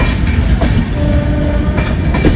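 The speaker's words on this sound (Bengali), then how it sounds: "পুরী থেকে ট্রেনটা আসছে" A passenger train running on the line near Khurda Road Junction, heard from aboard with a loud, steady rumble of wheels and carriages and a faint sustained squeal through the middle, no voices.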